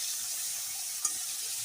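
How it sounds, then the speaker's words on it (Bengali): Fish head pieces fry in oil in a wok, giving a faint, even sizzle with one soft clink of a utensil partway through and no talk. "এখন লাল লাল করে ভেজে নেব"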